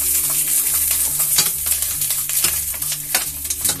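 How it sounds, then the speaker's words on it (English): Meat-stuffed peppers fry in a pan with a dense, close sizzle, broken by repeated scraping and stirring knocks at an uneven rhythm. "Now I know that the meat needs to cook all the way through."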